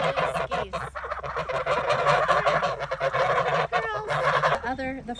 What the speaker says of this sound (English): These are French Toulouse geese.